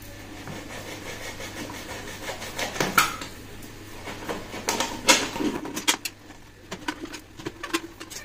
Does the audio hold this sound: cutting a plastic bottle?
yes